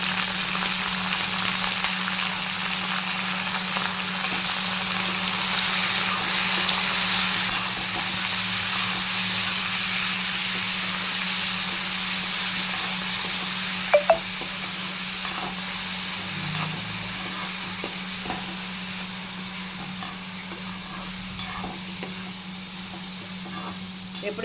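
Washed prawns fry in hot oil with brinjal, a steady loud sizzle continuing throughout, with occasional light clicks and scrapes of stirring and no talking.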